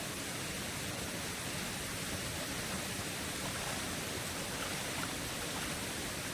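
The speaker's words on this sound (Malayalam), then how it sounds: "കുഞ്ഞൊരു തോട്, പക്ഷെ നല്ലൊരു സമാധാനം." A small stream flowing through a plantation gives a steady, even rushing wash of water that continues without a break. It sounds soft and constant, with no voices.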